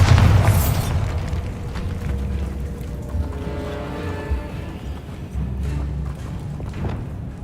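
A Bombarda blasting spell goes off in Hogwarts Legacy, a loud booming explosion at the start that fades into a long low rumble and debris noise, with no talking over it.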